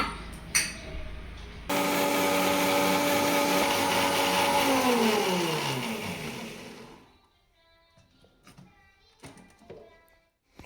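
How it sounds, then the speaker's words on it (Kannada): Kitchen blender grinding grated coconut with milk to a fine paste for ghee rice, a loud steady motor whine that winds down after several seconds, followed by quiet clicks and handling. "ಮುಕ್ಕಾಲು ಕಪ್ ಕಾಯಿ ಒಂದು ಕಪ್ ಹಾಲನ್ನ ಹಾಕಿ ನುಣ್ಣಗೆ ರುಬ್ಕೊಳ್ಳೋಣ"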